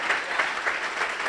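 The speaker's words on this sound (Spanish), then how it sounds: "¿Puede darle un aplauso al Señor?" Church congregation applauding, a brief burst of many hands clapping in a steady wash, fairly loud with no voices over it.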